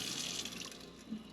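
Water runs from an RV faucet with the water pump switched on during winterizing, a steady close rushing stream that eases slightly toward the end, with no talking.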